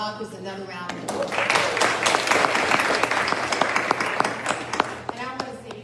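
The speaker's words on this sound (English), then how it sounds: "Please give our authors another round of applause." An audience at a school family literacy night applauds authors, rising from scattered claps into a full round of clapping, with voices speaking over and around it.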